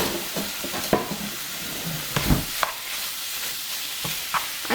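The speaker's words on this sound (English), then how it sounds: "so I am browning my meat" Meat browning in a hot pan for a stir-fry, a steady broadband sizzle with intermittent stirring scrapes and clinks throughout, close and fairly loud with no talking.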